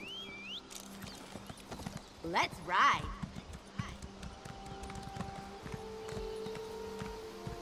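Horse hooves clip-clop in a fantasy video game, a run of light hollow steps across stone with a neigh-like cry near the start, fairly faint against a quiet ambient hum.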